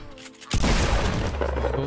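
Gunfire in a Fortnite duo match, a loud broadband burst of shots cutting in abruptly after a quiet start and rolling on as dense, sustained fire.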